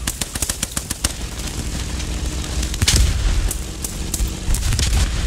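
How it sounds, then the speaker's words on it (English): Continuous gunfire in Post-Scriptum, with rapid machine-gun bursts and heavier booming mortar impacts mixed in, loud and dense throughout, with a few stronger thumps near the middle. "They're firing mortars at our rally."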